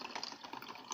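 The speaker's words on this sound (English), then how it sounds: "I'm going to start pouring water on this slowly, so I don't spill water on my Arduino." Water poured slowly onto a capacitive sensor wired to an Arduino gives a quiet, steady trickling splash that runs without a break for under a second.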